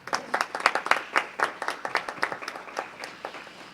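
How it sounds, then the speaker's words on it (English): Brief applause at a city council meeting, a small audience clapping in quick, uneven bursts that fade toward the end. "Please give her a round of applause as well."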